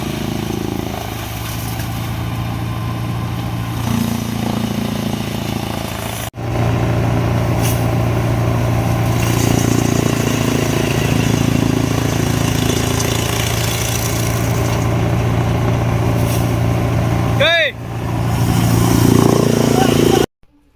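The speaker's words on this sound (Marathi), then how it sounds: "आज आमच्या मित्राचं कडबा बुकणा करायचं होतं ह्या मशीनद्वारे" Chaff cutter machine chopping bundles of sorghum stalks for fodder on a farm, a steady loud mechanical roar with continuous engine-like drone throughout, people talking over it.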